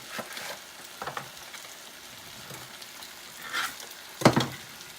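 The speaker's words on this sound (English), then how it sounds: "now that we have our peppers, onions, and seitan cooking" Peppers, onions and seitan fry in a pan, a soft, steady sizzle with a few louder scrapes and stirring knocks, the sharpest near the end.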